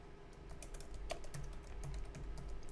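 Computer keyboard keys tapped in short irregular bursts while a name is entered into astronomy mount control software, close and fairly quiet, with no talking.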